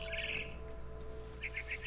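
A pet bird chirps in a quiet room: a brief burst of chirps at the start, then four quick evenly spaced tweets near the end, faint over a low steady hum.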